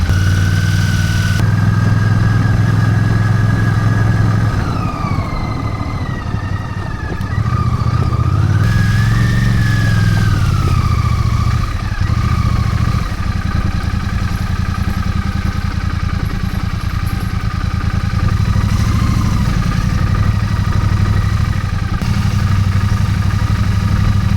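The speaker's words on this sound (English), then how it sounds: "this lad has got a Royal Enfield. He's got the classic 350." A Royal Enfield Classic 350 motorcycle idles steadily and loud, a continuous low engine chug with some clatter and faint higher tones drifting above, running alone throughout.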